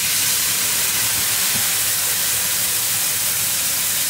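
White wine poured into a hot pan of seafood for spaghetti sizzles and hisses steadily throughout, a loud broadband steam-like sizzle with no talk.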